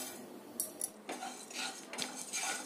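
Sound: fennel seeds spooned into a hot kadai

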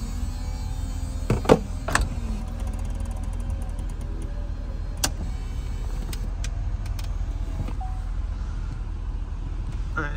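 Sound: power convertible top operating on a 2007 Chevrolet Corvette

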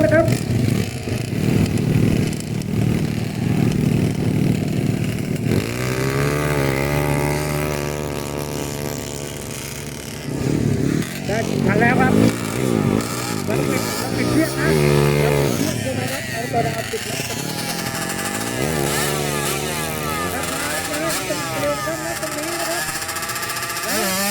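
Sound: saleng motorcycle sidecars racing 100 metre drag

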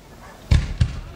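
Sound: fireworks going off at a beach festival

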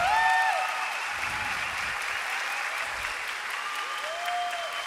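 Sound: audience applause at live concert

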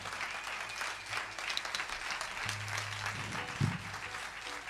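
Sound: audience applause at a concert

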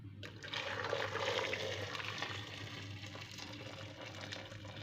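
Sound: pouring boiled water into multicooker

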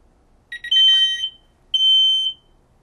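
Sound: Powermax MCT425 smoke detector alarm sounding during test

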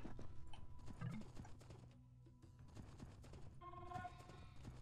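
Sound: horse hooves clip-clopping, Age of Empires 2 video game

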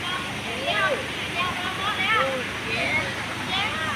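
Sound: Chae Son waterfall flowing

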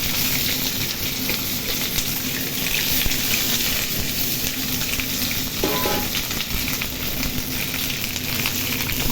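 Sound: vegetables frying in hot oil

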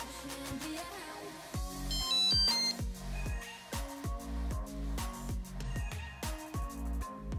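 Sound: Lezyne Super GPS bike computer power-on sound

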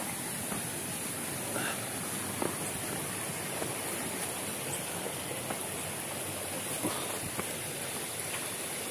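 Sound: stream flowing on a trail to a waterfall

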